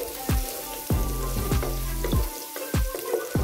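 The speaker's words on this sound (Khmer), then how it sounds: "យើងឆាខ្ទឹមសឲ្យឈ្ងុយឡើងក្រហម" Crushed garlic stir-fries in hot soybean oil until golden red, a constant close sizzle punctuated by regular scraping strokes of the spatula roughly every half second.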